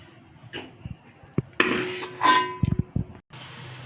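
Roasted halim seeds, toasted in ghee, being tipped and scraped from a pan into a dish, with scattered metallic clinks, a scraping sweep and several knocks of utensil on cookware, close and fairly quiet.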